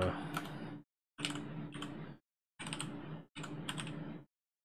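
Fingers type on a computer keyboard in quick clicking bursts, four runs of keystrokes separated by short silent pauses, close and clear with no talking.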